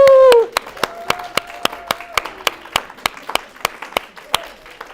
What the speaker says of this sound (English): Thunderous applause in just a moment.